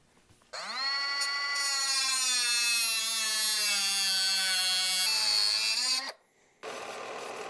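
Small grinder working a metal grapple arm for a Kubota B2601 rock bucket, a loud sustained whining drone close by that starts abruptly, holds steady, dips in pitch, then cuts off briefly before resuming.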